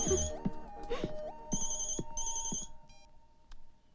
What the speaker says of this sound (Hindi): माया का फोन है